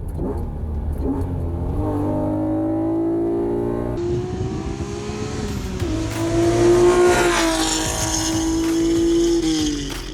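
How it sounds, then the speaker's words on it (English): A Honda NSX sports car drives on an open road. Its engine drones steadily and rises in pitch as it revs through the gears, loud and close throughout with no talking. "The NSX is for special days like this when you have a good piece of road and you really want to feel alive, just you and the machine."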